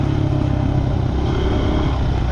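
Motorcycle riding, with a loud, constant engine drone and road and wind rumble close up throughout.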